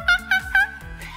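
A voice imitates a monkey call, three quick rising hoots followed by a lower trailing sound, close and fairly loud, in a short burst.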